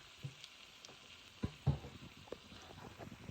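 Onions and green chillies sautéing in a large pan while prawns cook, with a steady soft sizzle and scattered stirring clinks and scrapes.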